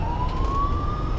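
A highway patrol car siren wails steadily and loudly, its tone slowly rising, heard over low traffic rumble on a road during early morning driving.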